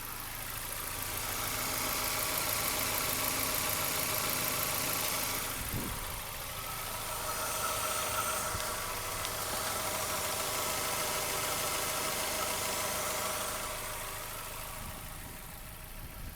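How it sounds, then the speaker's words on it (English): Close to the belts, the 1.8 litre engine of a 2001 Mazda MX-5 Miata LS convertible idles smoothly and fairly quietly, a steady even hum with slight swells and a brief thump midway. "So nice smooth idle, pretty quiet."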